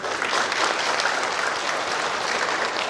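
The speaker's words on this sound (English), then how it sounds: "May we please begin with a round of applause" Steady audience applause at the Jakarta International Competition Forum, a dense, even wash of clapping held at full strength for three seconds.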